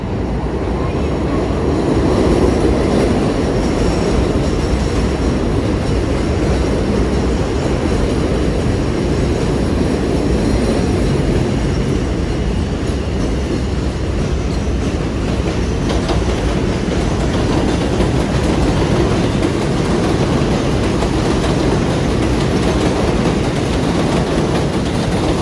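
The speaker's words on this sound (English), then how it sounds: "I just stood quiet because the train loud." A train rumbles steadily past nearby on a street in the Bronx, New York, loud and continuous, with rattling wheel clatter throughout.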